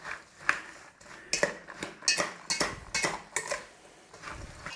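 A spoon stirs cinnamon into chopped rhubarb in a bowl for a crumble, making a close series of irregular clinks and scrapes against the dish with no talking.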